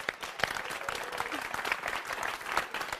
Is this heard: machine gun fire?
no